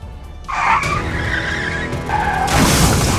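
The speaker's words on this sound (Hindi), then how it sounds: "एक झटके में बाइक कार से जा भिड़ी।" A car and a motorbike collide with a skid, giving a loud, sustained tire screech that starts abruptly, holds for about two seconds and then swells into a second harsh burst near the end, with no voices.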